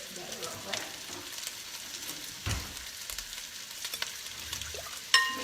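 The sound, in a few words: sausage browning and sizzling in a pan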